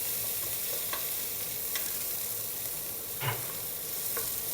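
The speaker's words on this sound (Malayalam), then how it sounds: "ഈ പാലക്കിൻ്റെ എല്ലാ പച്ച ടേസ്റ്റ് കംപ്ലീറ്റ് ആയിട്ട് മാറി ഈ നെയ്ക്കകത്ത് കിടന്ന് വഴന്ന് ഇങ്ങനെ ആക്കണം" Spinach sautés in ghee with a soft, even sizzle, broken by a few light stirring scrapes and taps spaced irregularly across the clip.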